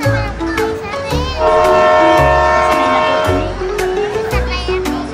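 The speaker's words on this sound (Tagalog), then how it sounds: "Nagdadrive na po ako ng tren." Train running in Japan, a steady loud rumble with horn-like tonal tones, heard continuously alongside children's voices and chatter.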